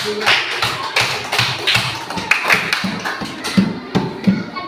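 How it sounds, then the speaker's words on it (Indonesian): Schoolchildren in a classroom clap together for a group's work, producing a rhythmic run of close, patterned hand claps and taps that lasts several seconds. "Ya, tepuk tangan dulu untuk hasil kelompok"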